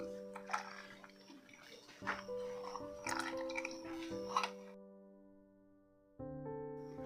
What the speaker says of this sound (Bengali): এবার ছেঁকে দুধটা দিয়ে দেব।